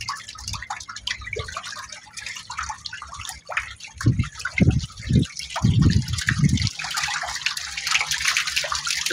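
Water drains and gushes from a small catfish fry tank, with steady trickling and splashing that swells into several louder pours midway before settling back to a continuous flow.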